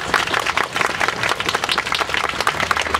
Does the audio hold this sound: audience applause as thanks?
yes